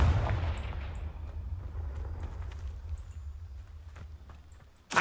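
A Confringo blasting spell goes off in Hogwarts Legacy, a rumbling burst that decays over several seconds beneath faint chiming game effects, with a sharp crack at the very end.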